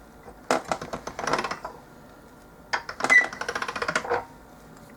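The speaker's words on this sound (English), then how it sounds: "I am going to run it through my pasta machine on the very thickest setting" Polymer clay fed through a pasta machine on its thickest setting, giving two bursts of rapid, rattling mechanical clicks from the turning crank and rollers, close and fairly quiet, with a short pause between passes.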